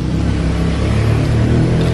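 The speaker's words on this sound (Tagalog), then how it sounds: "Tapos mga sasakyan na dumadaan" Road traffic passing near an outdoor cooking spot in the Philippines, a loud continuous engine rumble and rushing drone of vehicles going by close at hand.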